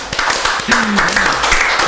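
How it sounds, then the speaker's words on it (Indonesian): An audience claps at an East Java provincial legislature event, short scattered applause mixed with sharp taps, with a voice speaking over it. "Tepuk tangan dulu, boleh?"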